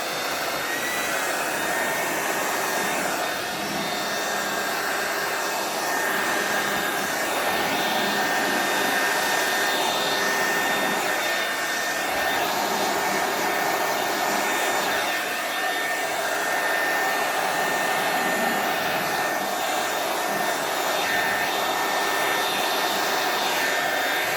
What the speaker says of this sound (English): that blow dryer is just not really good at spreading it around